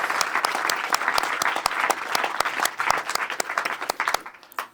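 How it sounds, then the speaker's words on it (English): Audience applause at an awards ceremony for a global sustainability film prize, dense steady clapping from a sizable crowd with sharp individual claps standing out, fading at the very end. "May I please have you a round of applause for the People's Postcode Lottery"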